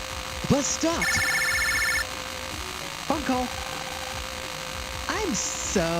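A phone rings in the Mega Man Battle Network video game, electronic trill bursts repeating at about two-second intervals, interleaved with chirpy synthesized blips over a steady game hum and background music.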